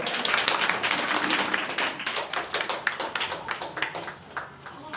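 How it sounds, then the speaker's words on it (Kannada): An audience at a religious discourse event in a Karnataka math hall claps loudly, a dense burst of applause that gradually thins into scattered, separate claps before fading. "ಅವರಲ್ಲಿ ಒಂದು ಜೋರಾಗಿ ಚಪ್ಪಾಳೆ ಹಾಕ್ಬೇಕೆಲ್ಲರೂ"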